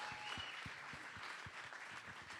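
Audience applause and cheering for hackathon teams after pitch presentations at an arts hackathon, a steady wash of clapping from a room full of people, fairly distant and sustained throughout.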